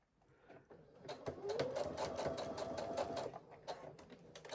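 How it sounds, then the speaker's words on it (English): A sewing machine stitches a heart-shaped zipper pouch with a zipper foot, a steady close whirring run of rapid needle strokes lasting a few seconds, quiet and without talking. "I stitch all the way down, and then here's my zipper foot"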